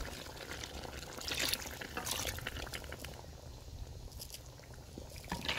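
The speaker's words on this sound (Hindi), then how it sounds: "आलू को भूनने के बाद थोड़ा सा पानी शामिल करना।" Water is poured into a pan of frying potatoes for an aloo chicken dish in a village kitchen, giving a quiet, continuous hiss and sizzle with faint bubbling.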